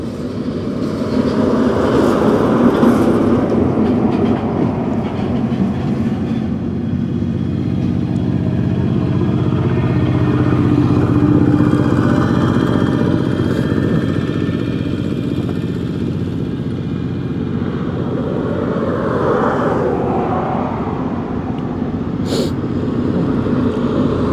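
A motorcycle ridden along a road in Laos, heard as a steady, loud engine rumble with road and wind noise throughout, no talking.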